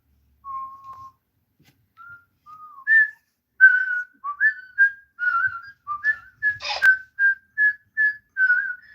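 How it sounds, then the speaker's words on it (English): A person whistles a tune nearby, a string of short clear notes at varying pitch following a hesitant opening, with one brief sharp noise in the middle and no talking. "You whistle good. You's a good whistler."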